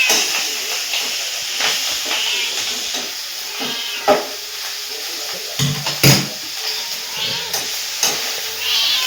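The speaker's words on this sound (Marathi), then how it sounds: "तर इथं अशी ही भाजी आता ही असं आपण मिक्स करून घेऊया सगळी भाजी." Coriander bhaji mixture is stirred in a pan over a gas flame, with soft scraping strokes and a steady sizzling hiss, plus a few sharper clinks of the spoon against the pan near the end.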